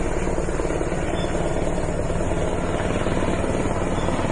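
Military helicopter gunships fly overhead during an army operation in Puerto Vallarta, a loud, steady rotor thump and engine roar filling the scene continuously without pause.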